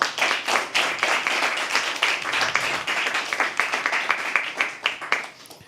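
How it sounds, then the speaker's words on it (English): An audience at a live poetry open mic applauds a performer, a steady wash of many clapping hands that thins toward the end, with a few voices faintly mixed in. "Can we please have a round of applause for him?"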